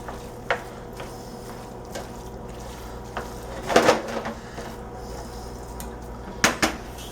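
Chicken, rice, peas and red peppers stirred in a hot pan, with a low background hiss and a few scattered clinks of a utensil against the pan, louder around the middle and near the end.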